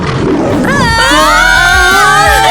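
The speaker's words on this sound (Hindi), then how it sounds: "एक्चुअली मैं दहाड़ सकती हूँ।" A werewolf girl lets out a loud, close, growling roar that swells and trails off in a single sustained burst with no other voices.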